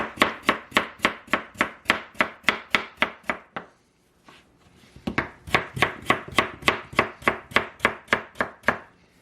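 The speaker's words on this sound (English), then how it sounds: "I'm going to cut this in half, then I'm going to slice it." A knife chops through a baking potato on a board in rapid, evenly spaced crisp thuds, a long run of cuts, a brief pause, then another quick run of slices.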